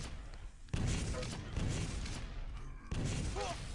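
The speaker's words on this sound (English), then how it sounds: "Jumps up, rockets, explosions everywhere." Rocket blasts from a Quake Live championship match, heavy booming explosions that hit in quick succession amid dense in-game action noise.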